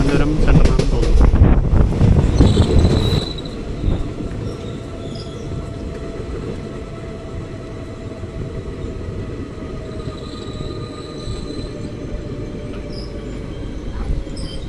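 A passenger train runs between Varkala and Kadakkavoor in Kerala, heard from inside with a loud rumbling burst at first, then a steady rolling clatter of wheels on rails and faint squeals, continuous throughout.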